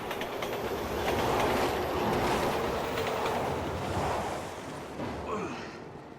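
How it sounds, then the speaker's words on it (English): A train rushes closer in the video game Resident Evil 6, a loud, broad roar of rolling wheels and clatter that swells and then eases slightly near the end, with no talking. "Train's coming!"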